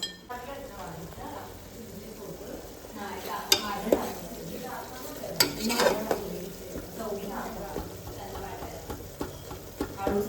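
Onion-garlic masala with chili powder stirred and frying in a pressure cooker for chicken biryani: soft sizzling with scattered scrapes and metallic clinks of a spoon, a voice speaking at times.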